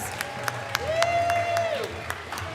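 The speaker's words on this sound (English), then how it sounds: "Everybody give the first batch of parade costumers a big round of applause" Scattered clapping from a Purim spiel audience cheering a batch of parade costumers, with a sustained whistle-like tone and crowd noise in the background.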